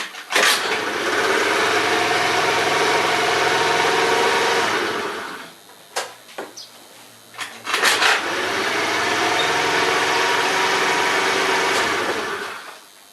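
A Zipp Astek motorcycle engine, kick-started, runs loud and close in a steady buzzing idle, falls silent for a couple of seconds amid a few knocks, then fires and runs steadily again before cutting off.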